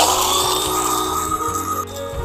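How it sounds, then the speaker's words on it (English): An electric blender flash-blends a tiki cocktail with crushed Pebble ice: a steady, loud motor whir with rattling, grinding ice that runs continuously for about two seconds before the motor cuts off near the end. "we plug the damn thing in, and now we flash blend."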